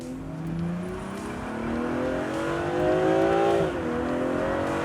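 A BMW M340i engine revs hard and accelerates with a deep, rising roar, briefly easing before climbing again, loud and close.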